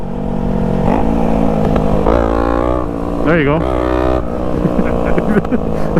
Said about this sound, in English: Pop the clutch. Go down to first.